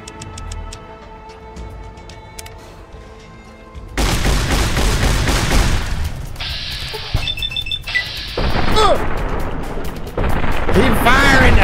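Riot shotgun fire in Fallout: New Vegas, loud dense bursts of gunfire and explosions crowding the soundtrack from about four seconds on, after a quieter musical opening.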